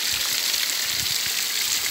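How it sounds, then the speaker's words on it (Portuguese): Heavy rain pours down in the Brazilian sertão as a steady, dense hiss of falling water, continuous and close with no talking. "Pensa uma chuva grossa."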